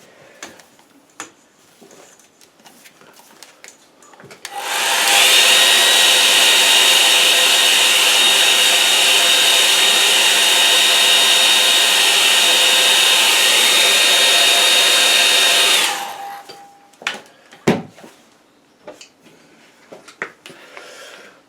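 Hair dryer blowing on an acrylic painting, a loud steady whirring hum that starts abruptly after quiet handling noises, runs for about eleven seconds, then cuts off, followed by soft brush and tapping sounds.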